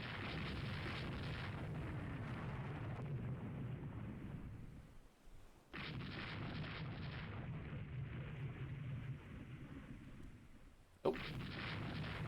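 Naval gunfire in the warship strategy game Rule the Waves 3, a steady low rumble of distant booming salvos that cuts out briefly twice, with a sharp pop near the end.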